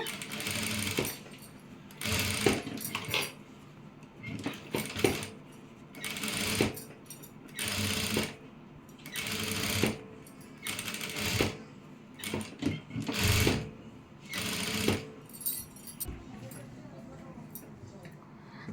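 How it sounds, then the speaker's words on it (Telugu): A sewing machine stitches around the neckline of a blouse in repeated bursts of rapid mechanical clatter separated by short pauses, close and clear, with a voice talking in between. "ఇవి ఇవనేది లేచకుండా ఇంత కుట్ట అయితే వేస్తున్నాను"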